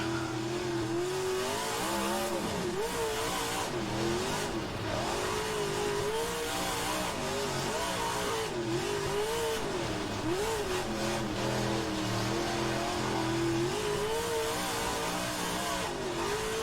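A stock car engine in rFactor 2 revs hard and steadily over more than sixteen seconds, pitch rising and falling with gear changes and corners, loud and continuous with no talk.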